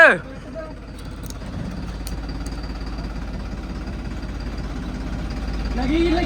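Tractor engine idling steadily after a brief loud start, a low, even chugging rumble that holds throughout and swells slightly near the end.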